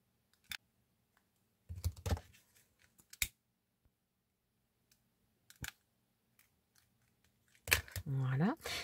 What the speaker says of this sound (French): Je coupe l'excédent et je brûle.